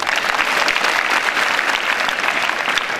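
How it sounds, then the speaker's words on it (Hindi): An audience at a National Unity Day lecture bursts into dense, loud applause that holds steady for about three seconds without speech. "इस बात पर तो ताली होनी चाहिए।"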